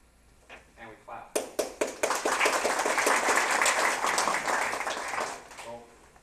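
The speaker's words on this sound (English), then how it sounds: "we always shake hands and we clap." Members of a newly formed club burst into clapping after a few scattered individual claps, the close, dense applause holding steady for several seconds before tapering off.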